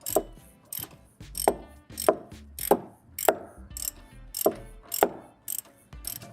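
A car oil filter being spun by hand onto its thread during routine vehicle maintenance gives a steady series of about ten distinct ratcheting clicks, evenly spaced and fairly close, with no talking.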